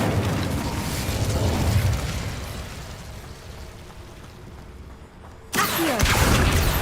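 Incendio fire spell cast in the Hogwarts Legacy video game, a loud rumbling, crackling burst that fades over several seconds before a sharp new blast erupts near the end, with no talk.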